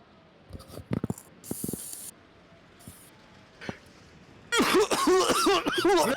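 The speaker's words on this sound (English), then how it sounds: "Everybody coughs the first time." A few short coughs and throat-clearing noises, sharp and close, then a loud burst of raspy, strained coughing and hacking near the end, from someone smoking a hand-rolled cigarette.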